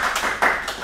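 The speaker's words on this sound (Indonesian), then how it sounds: "Wah, tepuk tangan dulu." A few quick hand claps in a casual podcast setting, three or four sharp close slaps spread across under a second.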